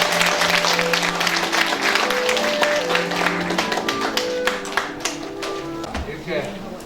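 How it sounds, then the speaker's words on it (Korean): An audience applauds to welcome a guest lecturer at a housewives' college class held by a local livestock cooperative. Steady, dense clapping runs throughout, with a voice and tonal background sounds over it. "큰 박수로 맞으십니다"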